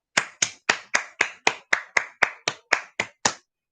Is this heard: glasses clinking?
no